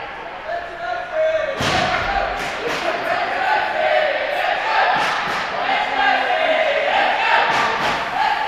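A broomball crowd at the Australian national finals chants and cheers in rising waves while sharp thumps and slams ring out on the rink, with a commentator talking over the noise.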